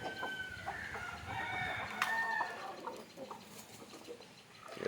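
Free-ranging country hens cluck softly while pecking at papaya leaves, with scattered short calls and one sharper squawk near the middle, continuous and fairly quiet, with no speech.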